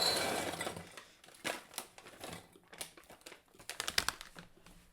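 Cashews clatter and rattle into a container in uneven bursts, a brief rush followed by scattered clicks and a final flurry, close and fairly quiet.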